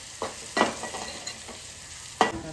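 Spices such as turmeric, coriander and cumin powder being stirred into frying oil for egg curry, a soft ongoing sizzle broken by a few sharp scraping strokes of the spoon against the pan, close by and without speech.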